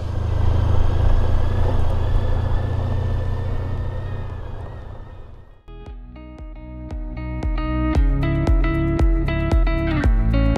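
A heavy road motorcycle of over 400 kg climbs a mountain dirt track, its engine droning loud and close, then dropping away before returning as sharp, rhythmic revving pulses as the throttle works up the slope.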